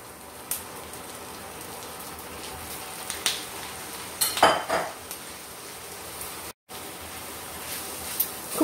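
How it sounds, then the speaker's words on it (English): Chopped prawns go into a hot pan for spicy cheesy prawn cutlets, giving a steady, rain-like sizzle with occasional utensil clinks and scraping near the middle and no talking. "now it's time to add some prawns"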